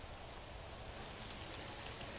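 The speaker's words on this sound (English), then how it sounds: "It's raining right now." Steady rain falling across a prison compound in the management game Prison Architect, a dense, even hiss filling the whole stretch with no breaks and no voices.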